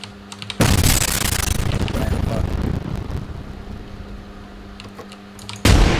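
A frag grenade blast in a shooter video game: a loud, sustained roaring burst with heavy low rumble fills most of the stretch, and a second sharp blast hits near the end.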